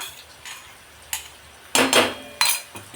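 Ghol, a thick-leaved wild vegetable, is stirred and sautéed in oil with ground green chili and garlic. A spatula scrapes and clinks against the pan in a few sharp knocks and brief clatters, close by and moderately loud, with no talking.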